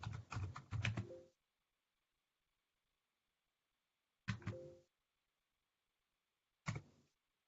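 Three short bursts of clattering keystrokes on a computer keyboard as a command is typed, a longer run first and then two brief taps, each separated by silence.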